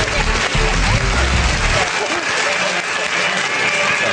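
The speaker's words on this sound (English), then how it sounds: "Give him a round of applause." Studio audience applause for a tattooed guest on a televised comedy quiz show, a dense steady wash of clapping that holds loud throughout with a low rumble early on.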